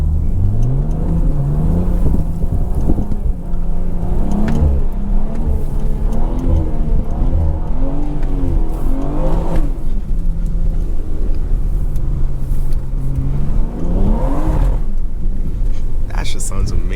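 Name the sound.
BMW 340i engine revving while drifting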